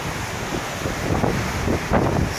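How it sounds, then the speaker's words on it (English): Strong hurricane wind roars steadily outdoors by a house, a dense, blustery rush buffeting the microphone with gusts swelling and fading. "Ooh, windy, windy."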